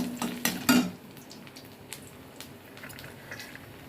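Soft sizzling of ginger frying in hot oil, with a couple of sharp utensil clinks against the pan at the start.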